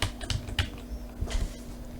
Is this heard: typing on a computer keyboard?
yes